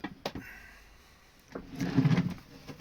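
Deep storage drawers under the sink aboard a Greenline 33 boat are handled, with a couple of quick clicks followed by a longer sliding rumble as a drawer runs open or shut, close by and fairly quiet.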